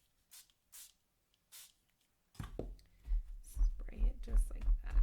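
Color Bloom spray paint hits hot glue in three short, breathy hissing bursts, then a voice starts talking over nearby handling noise.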